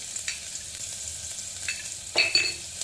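Mustard seeds, asafoetida and curry leaves tempering in a pan for a brinjal dish: a soft, low sizzle with a few sharp pops and crackles near the end.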